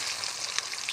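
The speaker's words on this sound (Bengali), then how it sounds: "এবার লবণ, হলুদ দিয়ে ভালো করে ডিমগুলো ভেজে নেব" Eggs frying in hot oil in a wok, seasoned with salt and turmeric, giving a steady, close crackling sizzle with brief brighter pops throughout.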